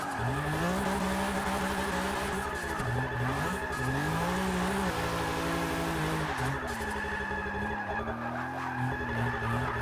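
A 1997 BMW E36 M3 drift build in Forza 6 roars through corners, its engine note rising and falling in steady sweeps while tire squeal runs alongside, loud and continuous throughout with no talking.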